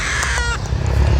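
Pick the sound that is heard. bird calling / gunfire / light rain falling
bird calling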